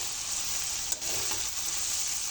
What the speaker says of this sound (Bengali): এভাবে অনবরত নাড়তে হবে, তাহলে করলাটা খুব সুন্দর ভাজা ভাজা হয়ে যাবে।